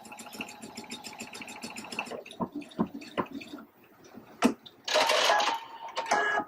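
Pfaff Quilt Expression 720 sewing machine stitching at about 3 mm length, then knocking as it ties off the thread, followed by a sharp snipping burst as it cuts.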